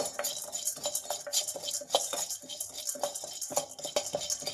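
Chickpeas being dry-roasted in a pan for akki hittina tambittu, a dense run of rattling clinks and scraping stirs, close and fairly loud with no talking.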